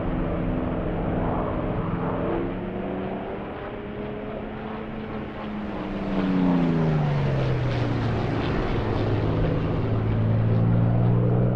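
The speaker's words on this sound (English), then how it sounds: "you need to get the Echo 19 Spitfire engine sound, because it's beautiful" A Spitfire engine in the DCS flight simulator drones steadily, its deep propeller hum holding on and then rising in pitch and loudness partway through, with no voices over it.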